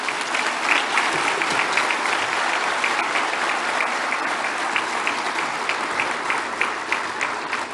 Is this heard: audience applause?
yes